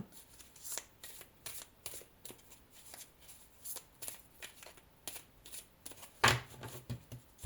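A deck of tarot cards is shuffled and cut by hand, with a close series of quick riffling flutters and soft slaps in irregular bursts, ending in a sharper snap of cards.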